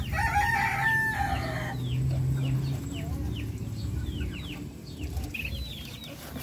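Darag native chickens cluck and chirp around a Filipino breeder farm while a rooster crows loudly and nearby at the start, followed by scattered high calls and a busy background of fowl.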